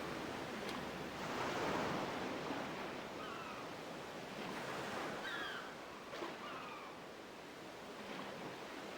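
Waves wash steadily against the shore in Final Fantasy X, with soft surf swelling and receding over a windy, breezy hiss. A few faint chirping game tones sit lightly on top.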